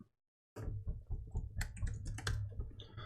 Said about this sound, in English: So you type in your keyword there and click Save.